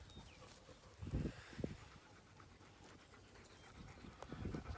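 Dogs panting outdoors in the shade on an Amish farm, quiet rhythmic breathy huffs in short bursts, fairly close, with faint outdoor ambience and no talk.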